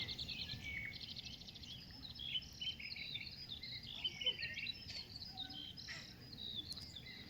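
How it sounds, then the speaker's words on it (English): Outdoors, several birds chirp and call in quick bursts over a constant buzz of insects, all fairly distant and quiet. "Just listen to the native birds around here."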